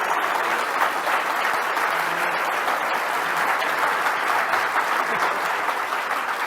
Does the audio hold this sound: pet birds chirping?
no